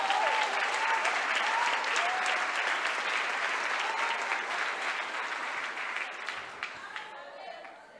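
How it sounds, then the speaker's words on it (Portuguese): A church congregation applauds the Lord with a dense, sustained roar of clapping that slowly tapers toward the end, faint voices rising through it. "Levanta as suas mãos e aplauda ao Senhor."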